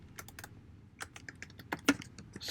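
Fingers type on a computer keyboard in quick irregular clicks, close and fairly quiet, with a few sharper keystrokes toward the end.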